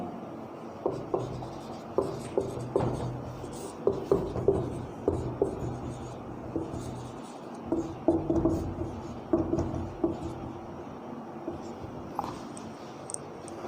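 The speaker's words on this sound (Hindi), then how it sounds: "जैसे मैं यहाँ पे एग्जाम्पल लिख रहा हूँ" Pen or chalk writing out a grammar example by hand, a run of scratchy strokes and taps in uneven bursts, close and fairly quiet over a low room hum.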